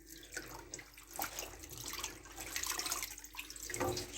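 Turnip leaves being rinsed under a running kitchen tap, a continuous splashing rush of water with sloshing and dripping as the leaves are handled, close and fairly quiet, with no talk.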